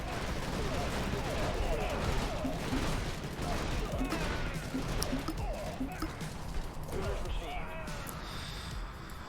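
Dense, continuous rumbling explosions from airstrikes in the video game Infested Planet, a steady barrage of booms and crackling impacts with speech underneath.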